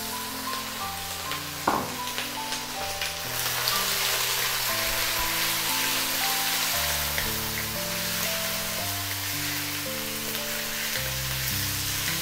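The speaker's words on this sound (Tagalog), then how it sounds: "gigisahin ko lang yung ating chicken na mga 5 minutes" Chicken sautéing with garlic in a pan for a Filipino pinabet dish, giving a steady close sizzle and frying crackle throughout while background music plays over it.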